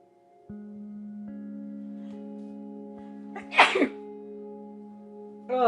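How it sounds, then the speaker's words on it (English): A single sharp sneeze from a person close by, heard over a sustained electronic hum, with a short breathy sound near the end. "I'm like sneezing now because I was snorting so much."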